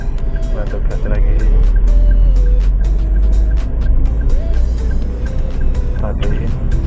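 Car engine revving steadily under the accelerator during parking practice with a driving instructor, a low continuous rumble throughout, with an instructor and learner talking over it.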